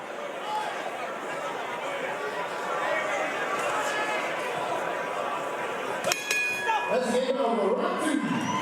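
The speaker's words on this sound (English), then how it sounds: "the crowd is really doing the good job for us tonight because they're so loud" A loud boxing-arena crowd roars and chatters continuously at a professional fight, a dense sustained din with a few sharp clinks and bangs near the end as the noise swells.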